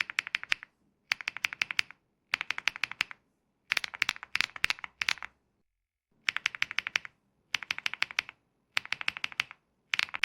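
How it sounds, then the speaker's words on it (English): Mechanical keyboard switches clack in quick rapid-fire bursts of keystrokes separated by short pauses, crisp and close, with nothing else heard. "The typing sound performance is indeed quite good"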